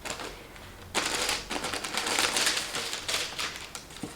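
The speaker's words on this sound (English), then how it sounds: "Tissue paper, tissue paper, tissue paper." Tissue paper rustles and crinkles while a pair of Tod's special-order shoes is unboxed, a quiet start giving way to close, bursty crackling handling that continues in uneven waves with no talk.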